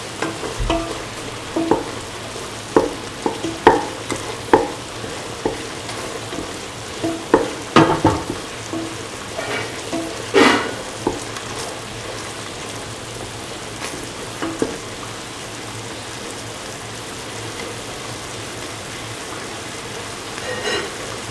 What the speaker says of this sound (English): And mix the egg into the mixture.